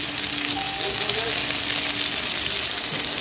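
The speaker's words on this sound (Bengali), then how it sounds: "দেখো পটলটা ভাজা হয়ে এসছে" Sliced pointed gourd fries in a hot pan with tomato, giving a loud, steady sizzling hiss that fills the short stretch without a break.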